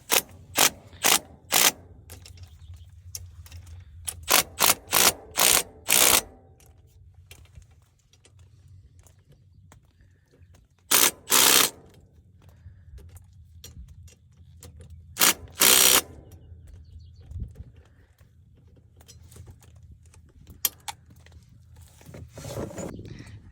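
Bursts of ratcheting as bolts are tightened while a U-joint is put together, several quick rapid-clicking runs near the start, then two longer isolated bursts mid-clip and one at the end, close and loud against a low hum.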